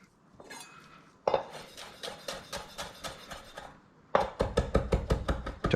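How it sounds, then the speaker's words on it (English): A kitchen knife roughly chops parsley on a cutting board in two bursts of quick, evenly spaced strikes, close and crisp, with a short pause between the bursts. "Chop, chop, chop, chop. Just a rough chop there."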